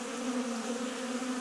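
Bees buzz in a steady, droning hum at a blocked hive entrance where fighting is going on, close and continuous with no talk.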